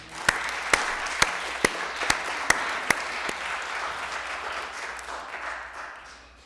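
A church congregation applauds steadily for several seconds, with a few sharp, louder claps standing out early on before the clapping thins and fades.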